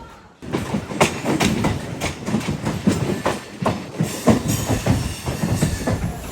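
The Nellore to Vijayawada MEMU Express runs along the track with a loud, close rhythmic clickety-clack of wheels over rail joints and a rumbling carriage underneath.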